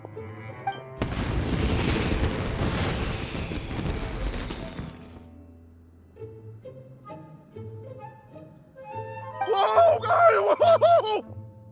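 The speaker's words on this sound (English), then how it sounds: "Yoimiya, this is turning into a bit of a fireworks display." Fireworks in Genshin Impact go off in a dense, crackling barrage of booms for several seconds, then fade; later quieter tones and a bright, rising burst of musical effects follow, with no speech.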